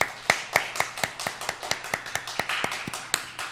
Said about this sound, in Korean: 우리 축하의 박수 한번 치겠습니다